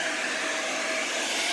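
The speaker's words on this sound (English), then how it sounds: "sometimes the blow dryer is too powerful" A hair dryer used on a fluid paint pour blows with a steady, loud whooshing roar, constant and close, with no other sounds.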